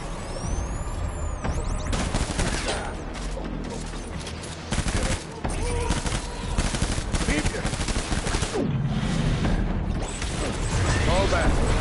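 Sustained gunfire in the video game Death Stranding, with dense automatic bursts and sharp shots firing almost continuously and loud throughout, mixed with mechanical clatter and voices speaking over the barrage.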